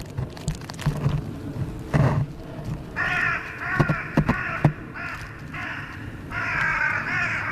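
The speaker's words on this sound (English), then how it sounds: "that sounds creepy as F, bro. These crows." Several harsh crow caws ring out in bursts, some overlapping, over a rumbling outdoor background with a few sharp knocks.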